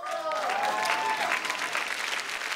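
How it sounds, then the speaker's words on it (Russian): Audience at a stand-up comedy roast breaking into sustained, dense applause, loud and steady throughout, with a voice briefly audible at the start. "давайте похлопаем Эйлерту"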